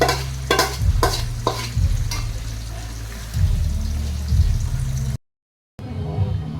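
Marinated biryani meat sizzles in a pan under loud, repeated stirring and scraping. The sound breaks off briefly into silence before the sizzle returns.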